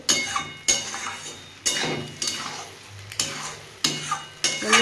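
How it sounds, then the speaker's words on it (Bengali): A spoon scrapes and stirs moringa leaf mash in a pan over a gas flame, with repeated strokes every second or so, each starting with a sharp knock against the pan, amid a soft sizzle. "এইভাবে সমানে নাড়তে হবে।"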